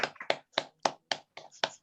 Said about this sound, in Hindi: जोरदार तालियां चाहूंगा सर मैं।